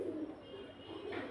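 Domestic pigeons kept for sale in Beldanga, Murshidabad, give low, throaty coos that ripple steadily for the whole moment at moderate distance, with no voices over them.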